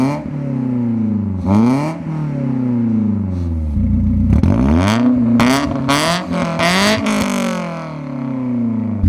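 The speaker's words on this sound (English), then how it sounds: "you guys heard how it sounds with the valves open and closed" BMW E30 with a Valvetronic muffler revs repeatedly, valves switching between open and closed, giving loud, close rising and falling engine sweeps with sharper blips toward the end.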